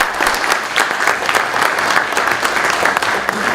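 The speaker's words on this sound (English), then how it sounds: "Give another big round of applause for our Attorney General." Audience applause for Virginia Attorney General Jason Miyares at a Front Royal partnership event, a dense steady wash of clapping filling the room close by and continuing throughout.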